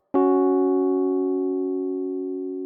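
A perfect fourth interval, two notes struck together at once, sounding as a clear sustained tone with stacked harmonics that decays gradually, unaccompanied and without speech.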